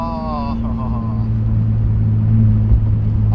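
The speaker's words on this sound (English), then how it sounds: "I still love the sound of the Motordyne exhaust on this thing" A Nissan 350Z with a Motordyne exhaust driving, giving a steady low, deep exhaust drone from inside the car, close and fairly loud, with a voice talking briefly at the start.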